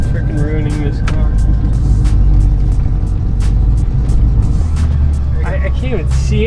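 A Nissan 180SX idles while warming up in the cold, giving a steady low engine rumble close by with scattered clicks, and brief voices near the end.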